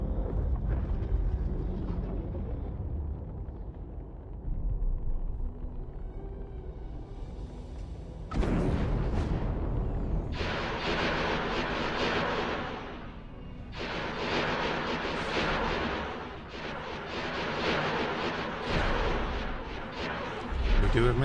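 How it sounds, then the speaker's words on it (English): Ship-mounted guns going off in the space game X4: after a low rumbling hum, loud sustained crackling bursts of weapon fire roll in waves with short lulls, alongside quiet talk. "You can see the guns going off."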